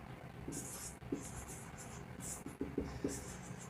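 Chalk or pen writing out a math proof, heard as close scratchy strokes in short bursts with small taps between them, steady and fairly quiet, over a faint background hum.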